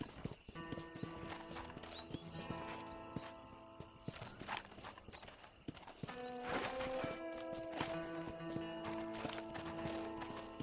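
Horse hooves clip-clop steadily at a walking pace in the Red Dead Redemption video game, with an occasional whinny, set against a busy ambient game soundtrack.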